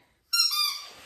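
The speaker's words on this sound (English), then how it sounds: "tiny squeaky toy." A tiny squeaky dog toy gives one sharp, high squeak after brief silence, close and moderately loud, trailing off over about half a second.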